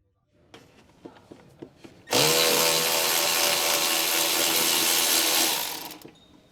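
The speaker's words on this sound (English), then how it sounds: "Use a medium electric ratchet wrench with a medium 14mm short socket to remove the upper mounting bolt." A medium electric ratchet wrench with a 14mm short socket spins out the upper mounting bolt of a lower control arm on a 2007-2013 Acura MDX, first with a few short clicks and then a loud, steady whirring run that winds down.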